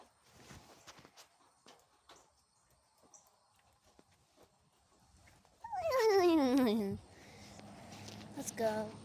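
Dogs outdoors give a loud descending whimpering whine for about a second near the end, after faint footsteps and rustling, with a brief higher whine just before the close.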